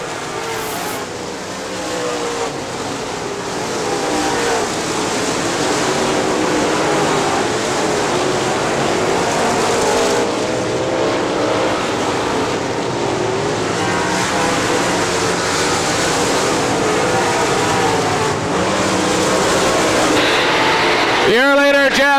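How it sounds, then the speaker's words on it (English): Late model race cars roar continuously around an oval speedway, a dense, sustained engine drone from the pack, with an announcer's voice calling the race over it. "Three wide over in turn two as they race back into back for position."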